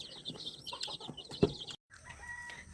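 Rhode Island Red chickens cluck in a brief, scattered run of soft, close calls. One sharper note stands out before a moment of silence, and the clucking resumes faintly after it.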